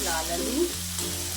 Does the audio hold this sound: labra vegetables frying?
yes